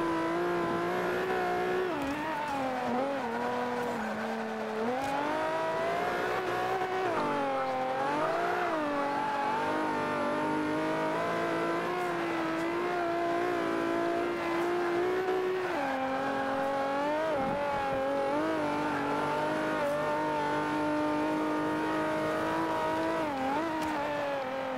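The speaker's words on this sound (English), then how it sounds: "Spinning the tires." Race car tires spinning on the Nürburgring GP circuit with no brake line, heard as a continuous loud engine howl with rising and falling revs and tire noise, sustained throughout.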